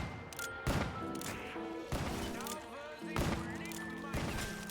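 Four heavy, booming shots from the Annihilator gun in Call of Duty Black Ops 3 Zombies, evenly spaced and loud, ringing over game music and tones while someone talks.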